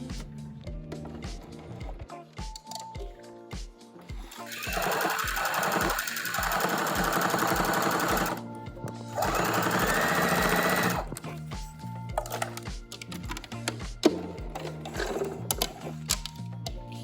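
A sewing machine runs a top stitch close by, pausing and starting in short bursts before two longer steady runs of rapid, even needle chatter, with scattered handling clicks and knocks between them.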